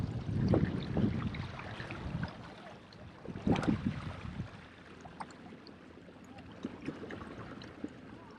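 An Old Town Sportsman AutoPilot 136 motorized kayak cruising on water gives steady rushing water and hull splashes, with louder surges near the start and midway and a steady wash between.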